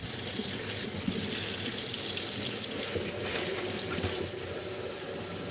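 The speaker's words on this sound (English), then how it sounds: "turn the water down a little" Water runs from a kitchen tap into a sink in a steady, loud, close hiss with an even splashing texture and no talking.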